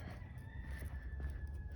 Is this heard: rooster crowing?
yes